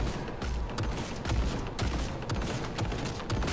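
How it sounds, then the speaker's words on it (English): Rapid turret gunfire in the video game Cyberpunk 2077, played on very hard mode: dense, continuous bursts of automatic shots with sharp cracks, loud and sustained throughout. "Alright, turret. What are you shooting at, bro?"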